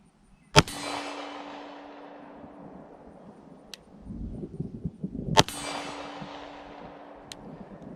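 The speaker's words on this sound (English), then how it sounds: "I slowly pull the trigger until the gun shoots." Two pistol shots ring out about five seconds apart, each a sharp crack followed by a long fading ring from a struck steel target, with shuffling and handling noise between them.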